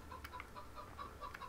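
Chickens cluck in a farmyard in the Farming Simulator video game on Xbox 360: soft, repeated clucks and short calls at a steady, moderate level over a low background hum, with no talking.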